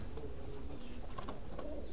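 Pigeons, including open-tailed fancy birds, cooing at a pigeon farm; several soft, low throaty coos overlap against a busy background of other bird sounds, fairly close.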